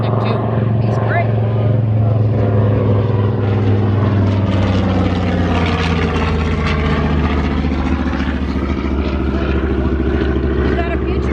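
A WWII-era warbird propeller fighter makes a quick banking pass at a beach airshow, its engine drone loud and steady throughout with a slight pitch sweep, while announcers talk over it.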